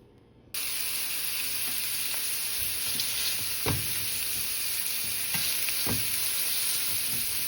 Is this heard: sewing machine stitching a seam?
no